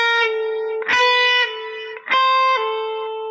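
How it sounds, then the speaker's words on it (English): Electric guitar pull-offs played weakly through distortion, a sustained note dropping in pitch a few times with uneven, soft transitions and short pick noises between phrases, loud and close with no talk. "Okay, weak pull-offs."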